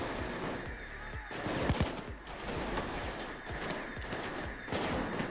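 Heavy gunfire in the heist shooter Payday 2, a dense fusillade of overlapping shots and impacts amid a noisy firefight, continuous and loud.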